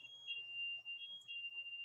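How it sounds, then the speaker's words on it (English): A house alarm sounds indoors with a steady high-pitched electronic tone, quiet and continuous, alone with no talk. "my house alarm's just gone off"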